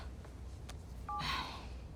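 A phone is dialed in the video game Marvel's Spider-Man 2, a brief pair of soft dial tones followed by a short burst of keypad noise, faint and close over quiet game ambience.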